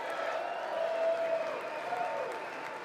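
Applause and clapping from members of Congress at a State of the Union address, a steady, moderately loud wash of many hands lasting throughout, with a crowd murmur beneath.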